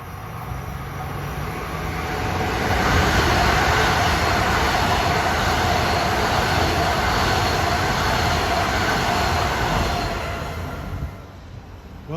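An LIRR train, number 660 from Penn Station to Port Jefferson with M9 cars, roars past eastbound on the triple track at Westbury during the evening rush, a loud broad rumble that swells, holds steady and fades.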